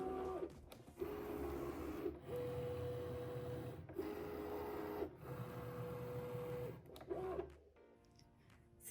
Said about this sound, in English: We'll go ahead and load our mat into the machine.